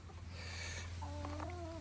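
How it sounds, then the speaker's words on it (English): Chickens in a Cape Cod garden with marigolds, eggplants and tomatoes give a few faint, brief clucks over a steady low hum. "Hello, chickens."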